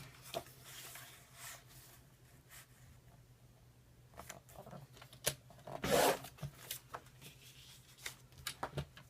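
Paper being trimmed by half an inch off a 12-inch sheet for a craft project, heard as faint intermittent scraping and rustling with a brief louder tearing burst midway, quiet room with no talking.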